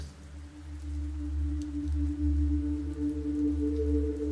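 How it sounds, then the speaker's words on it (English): Light rain falls on a car windscreen as a soft, steady patter, sitting over a constant low drone throughout, with no voices. "It starts to rain lightly, and you hear the windscreen wipers start to move back and forth."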